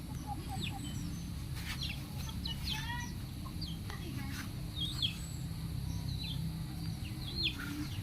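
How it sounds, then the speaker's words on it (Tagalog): Several chickens cluck and chirp in short scattered calls over a steady low rumble of background noise; no clear talking. "Ayan, magandang klase na manok."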